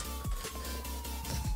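Ambulance siren in the video game GTA IV, a steady wailing tone with a faint gliding pitch, heard under game engine and ambient noise for a short moment.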